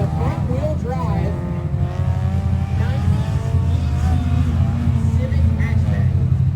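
A front-wheel-drive Honda Civic hatchback runs a timed lap at a grip shootout, its engine droning and shifting pitch in rising and falling tones beneath a commentator's steady talk.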